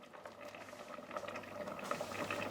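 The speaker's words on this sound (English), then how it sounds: "now we're going to put some vegetable oil in that we got from Lidl" Vegetable oil hitting a hot pan, a steady close sizzle and crackle with a broadband hiss rising slightly in intensity, no talking.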